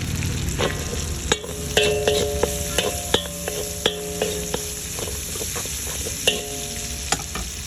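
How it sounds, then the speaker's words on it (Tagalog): Onions sauté in a hot pan beside garlic, a steady crackling sizzle broken by sharp ladle taps and scrapes as they are stirred, close and clear with no voices. "Dahil mainit ang ating kalan, mabilis lang maluto ang sibuyas."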